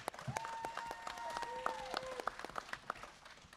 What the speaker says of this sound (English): Everybody clap it up for Mike.